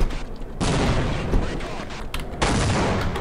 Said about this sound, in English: threw a grenade at me